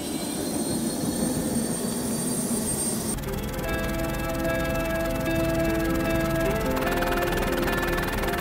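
Helicopter flight from Rottnest Island to the Swan Valley in Western Australia: a steady, loud engine and rotor drone holds throughout with no talk, its tone shifting partway as the turbine whine changes.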